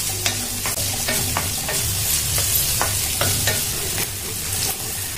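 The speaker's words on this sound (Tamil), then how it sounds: "வெங்காயம் நல்லா வதங்கணும்." Sliced onions and curry leaves sauté in a pan for chicken fry, with a steady loud sizzle under repeated stirring scrapes that fall in a fairly regular rhythm, close and continuous, with no talking.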